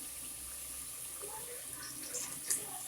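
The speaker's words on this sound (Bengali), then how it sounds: "এখন একটু গরম পানি দিয়ে দিচ্ছি আমি, যেন সময় কম লাগে।" Hot water poured into a cooking pot for Iftar dishes, a steady close splashing pour that runs throughout with a brief louder gush near the end.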